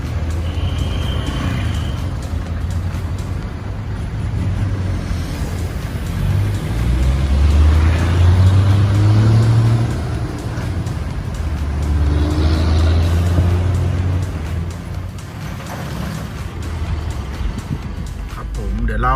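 A car being driven up onto a slide-bed tow truck for delivery, heard as a loud, continuous engine and diesel drone that swells and eases over several seconds, with outdoor background noise.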